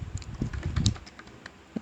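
Quick, steady keystrokes of code being typed on a computer keyboard, close and fairly soft, with a few louder key hits near the end and no talking.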